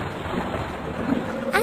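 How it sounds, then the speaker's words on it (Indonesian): Steady rain falls with a low rumble of thunder, a dense even hiss filling the short stretch and swelling slightly near the end. "Lalu turunlah hujan tersebut sampai ke bumi."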